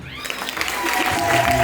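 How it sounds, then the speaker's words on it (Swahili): Church congregation bursting into applause, rapid clapping swelling and growing louder over a short stretch, with a voice speaking over it. "Piga makofi."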